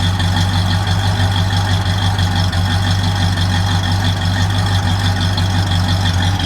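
A 1968 Pontiac LeMans with a single exhaust idles steadily at close range, a smooth, even low rumble that holds constant throughout with no voices.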